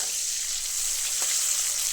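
Bitter gourd fries crisp in a pan with a bright, even hiss of hot oil and one faint clink partway through, steady and close.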